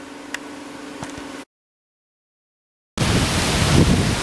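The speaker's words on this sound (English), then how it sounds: "It is very, very windy today" Strong wind blowing outdoors on a very windy day: a low steady hum gives way to a short silence, then a loud, rough roar of wind buffeting the microphone fills the last second and a half.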